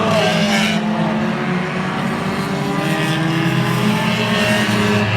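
Outlaw division race cars in a Super Series race thunder around an oval in a loud, continuous engine roar, the pitch sliding lower as they pass, with a sharp burst near the start.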